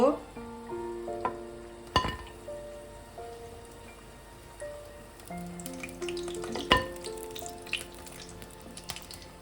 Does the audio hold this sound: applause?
no